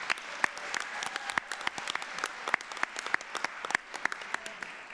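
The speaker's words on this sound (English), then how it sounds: "So give her a round of applause." Audience applause at an equity awards ceremony, a moderately sized crowd clapping with many distinct sharp hand claps standing out against a steady wash, continuous and fairly close throughout.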